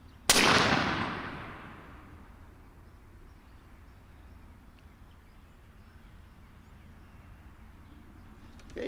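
A single loud gunshot from a 50 caliber Hammer carbine rifle fired at a 70-yard range, a sharp blast that rings out and decays over a few seconds into quiet outdoor ambience.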